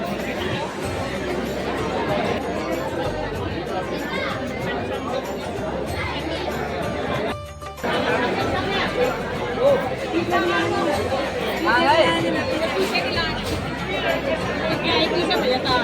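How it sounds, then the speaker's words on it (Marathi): Dense crowd babble at the busy Trimbakeshwar temple in Nashik, a steady, close wash of many overlapping voices with a brief dip midway. "खूप गर्दी आहे"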